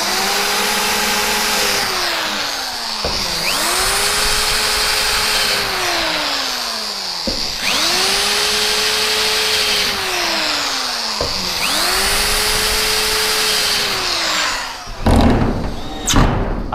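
A power drill drives wide-head self-tapping screws into 8-10 mm slate roofing sheets on a barn roof. It gives four loud, sustained whirring runs, each sliding in pitch as the screw bites, with a brief clatter at the end.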